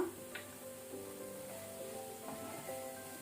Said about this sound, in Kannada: 1 ಮಿನಿಟ್ಸ್ ಹೀಗೇನೆ ಫ್ರೈ ಮಾಡಿ